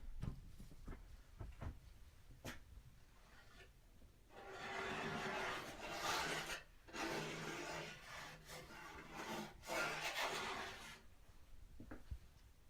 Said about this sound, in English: you can hear from the scraping sound on the board just how much I really try to push the paint in